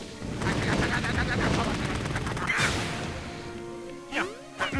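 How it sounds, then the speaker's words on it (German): Cannon blasts in Wario Land: The Shake Dimension, loud explosive bursts with crashing impacts over busy game music and effects, a few rising sweeps near the end. "Die nächste Kanone."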